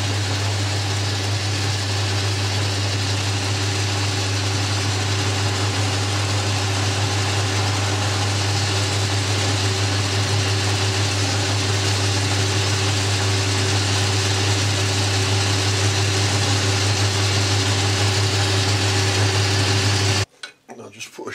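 A milling machine or lathe cuts an undercut on a new swivel pin for a mill vice, giving a steady, loud mechanical hum and whine that runs unbroken for about twenty seconds before cutting off abruptly.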